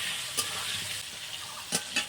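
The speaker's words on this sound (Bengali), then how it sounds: "আলুটা খুব ভালো করে ভেজে নেবো, লাল লাল করে।" Potatoes frying in salted mustard oil in a wok give a steady close sizzle, with a few brief scraping stirs breaking through.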